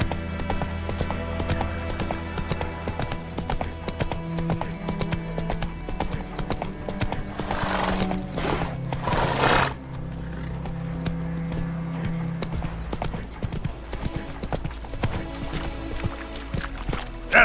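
Hoofbeats of a horse named in The Witcher 3 game, a steady galloping clip-clop rhythm running throughout, loud and close, with a brief swell of rushing noise midway and game music or ambience underneath.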